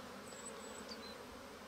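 Honeybees flying around hives at an apiary on a sunny late-February day, a faint buzzing hum with a few individual bees whining past close by, quiet throughout.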